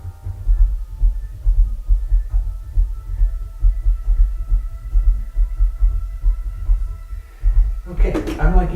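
A boomy kick drum in a music mix pounds out a steady run of deep, close thumps with a low hum beneath, and a voice breaks in briefly at the end.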